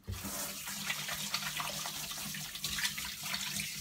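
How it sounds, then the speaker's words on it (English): Water runs and splashes at a sink while a face is washed, a soft continuous pour broken by irregular splashing bursts, with no voices. "I'm going to wash my face right away."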